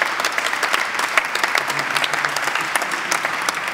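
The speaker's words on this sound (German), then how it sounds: "Also für alle, die innovativ sind, die kriegen von uns jetzt einen Applaus" Audience at a panel discussion giving a round of applause, a steady, moderately loud patter of many hands clapping throughout, with individual sharp claps poking through.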